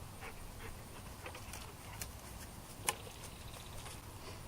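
A big dog pants close by during backyard bow practice, a soft, steady, breathy rhythm over low background noise, broken once by a sharp click near the end.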